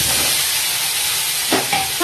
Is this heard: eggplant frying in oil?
yes